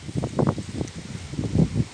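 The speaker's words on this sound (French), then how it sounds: "il y a beaucoup de vent, je ne sais pas si vous allez bien m'entendre" Gusty wind blows hard across an autumn vegetable garden planted with lettuce, beans, leeks and maize, rustling foliage and buffeting the microphone in uneven surges that rise and fall over the short stretch.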